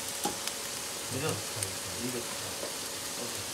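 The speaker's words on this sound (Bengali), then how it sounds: "অ্যান্ড সিমটা একটু কম করে দিয়ে আমরা নেড়ে চেড়ে এটাকে কষাচ্ছি" Masala being stirred and sautéed in a pan over a low flame gives a soft, continuous sizzle with scraping stirs, and a few faint voices murmur underneath.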